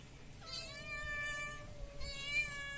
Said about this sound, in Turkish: Arkadaşlar benim kedilere bakın.